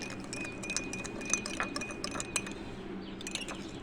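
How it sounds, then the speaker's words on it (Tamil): Rapid metallic clinking of a spoon stirring yogurt lassi in a glass, quick repeated taps over a low background hum, close up. "இந்த டக்கு டக்கு டக்கு டக்கு டக்கு டக்கு கலக்கிட்டு"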